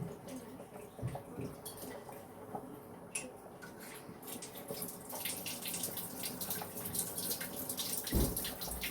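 Water splashes and trickles from a tap into a mix of ground chili and spices while it is moistened into a paste, with soft clinks of utensils nearby and splashing that swells toward the end.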